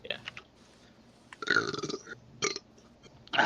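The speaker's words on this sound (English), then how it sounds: "Oh yeah, I'm gonna keep that burp in." A single person burps several times in quick succession, short guttural bursts with brief pauses between them, close and fairly loud against a quiet room.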